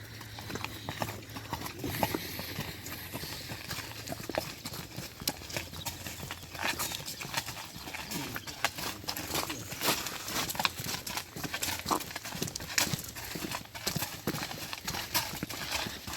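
Steady clip-clop of mares' hooves on a hard surface, continuous rhythmic clopping throughout with outdoor background noise.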